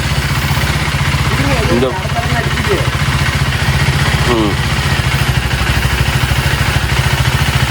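A motorcycle engine runs steadily with the clutch fully pulled in, a loud, close, rapid mechanical chugging and clatter throughout, while someone speaks briefly.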